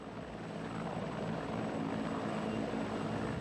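A CH-53 military helicopter of the German armed forces passes overhead during a firefighting mission, its rotors producing a steady, loud broadband roar with low thumping that holds constant throughout, no voices present.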